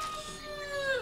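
A rooster crows once, a single rising and falling call that is clear and fairly close, with no talk over it.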